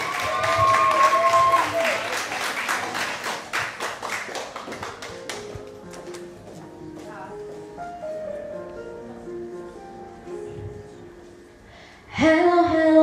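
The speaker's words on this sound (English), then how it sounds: "Big round of applause." Audience at a children's talent show final claps loudly, then the applause thins and fades into quieter sound before music abruptly starts.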